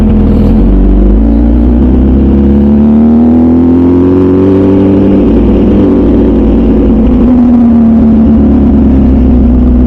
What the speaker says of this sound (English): The sound that this bike makes is absolutely amazing